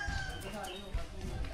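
Chickens at a rural yard in San Pablo, Laguna, including fighting roosters, crowing and clucking faintly in the background while people talk over them.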